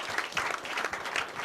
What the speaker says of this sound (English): People are clap for him now.